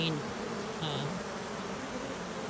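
Honey bees buzz steadily around an open hive colony on a cool day, a dense continuous drone close by with a couple of brief higher-pitched whines, no talking.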